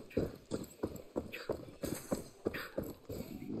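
In Far Cry 6, a horse trots with an even, quick clip-clop of hooves, moderately close, and a faint voice murmurs in the background.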